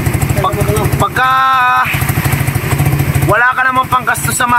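A motorcycle engine is revved in repeated bursts, loud and close, climbing in pitch between stretches of a throbbing idle, with people talking over it.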